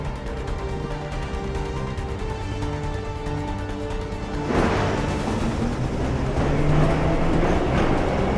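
A subway train in Assassin's Creed III rolls into the station, its steady rumble swelling into a louder rush of wheels and air about halfway through, with no voices over it.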